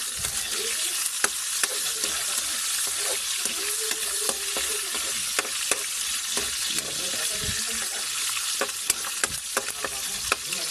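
Pork fries in a well-used dark pan for a mung bean stew, giving a loud, constant sizzle dotted with crackles and pops and occasional ladle scrapes, with no voices.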